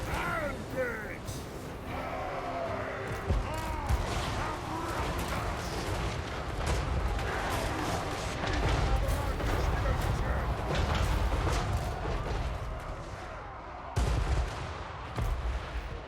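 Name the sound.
cannon fire in a Warhammer strategy video game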